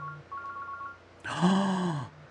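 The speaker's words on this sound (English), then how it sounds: "getting a phone call" A mobile phone signals an incoming call with a bright electronic ringtone that starts partway through, rising loud and close after faint beeps.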